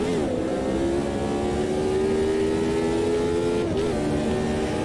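Cosworth DFV race car engine in the Automobilista 2 sim, running on big slick tyres: a sustained, loud high-revving drone with steady harmonics, a brief dip and recovery near the end, continuous and alone.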